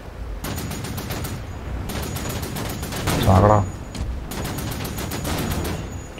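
Rapid automatic gunfire from the video game Wolfenstein: The New Order rattles in long bursts with short gaps and one heavier blast in the middle, while someone talks over it.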